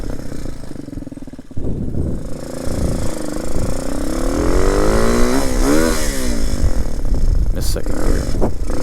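A 2019 RPS Hawk 250 motorcycle engine revs up close, rising in pitch through repeated climbing sweeps as it shifts through gears, loud and buzzy, with a voice briefly heard near the end.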